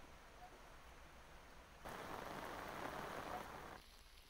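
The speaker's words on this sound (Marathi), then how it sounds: "पालघर, चिंचणीसह परिसरात पावसाची रिपरिप सुरू आहे।" Rain falls steadily on surfaces in coastal Palghar during stormy weather, a soft hiss that swells to a denser downpour for a couple of seconds, then eases back.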